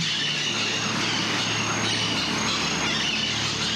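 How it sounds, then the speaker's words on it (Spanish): A large flock of green and black-headed parakeets gathers at a mineral clay lick in a reserve, making a dense, continuous wash of chattering calls and shrill chirps. "A las 7 de la mañana, cientos de pericos verdes y de cabeza negra descienden en bandada a este saladero"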